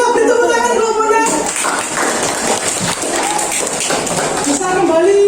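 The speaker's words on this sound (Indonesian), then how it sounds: "kita beri tepuk tangan kelompoknya" A classroom group gets a round of clapping, several seconds of lively, mixed handclaps filling the middle of the clip between stretches of voices.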